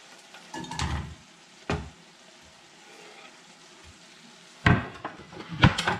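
Red onion frying in olive oil in a pan gives a steady low sizzle, broken by a few loud clanks and scrapes of a utensil against the pan near the start and again near the end.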